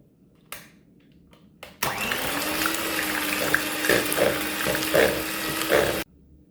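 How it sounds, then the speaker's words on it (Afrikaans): Cream cheese and ice-cold evaporated milk whisked together with an electric mixer, a steady whirring drone with rattling, clattering texture that starts after a couple of brief knocks and runs for about four seconds before cutting off abruptly. "Nou gaan ons hierdie net klits."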